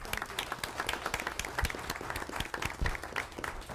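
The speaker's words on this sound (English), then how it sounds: "we owe you a hand of applause" Audience at a school board meeting gives a round of applause for departing student members, a dense, steady wash of many hands clapping with scattered louder claps throughout.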